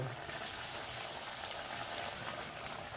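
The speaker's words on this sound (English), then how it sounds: "You have to nicely fry both the sides to golden color until the vadas get cooked" Masala vadas, a Kerala tea-shop style lentil fritter, deep-frying in hot oil, giving a steady, close, dense sizzle and crackle that runs evenly throughout without pause.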